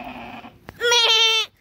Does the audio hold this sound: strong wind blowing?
no